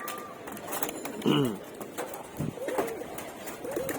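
Pigeons coo in a loft, a few soft throaty calls rising and falling close by while someone talks over them.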